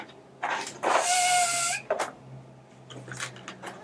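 A clear 160 latex balloon is inflated with a hand pump in a couple of short pumping strokes, each a brief airy squeak and whoosh, close and fairly quiet.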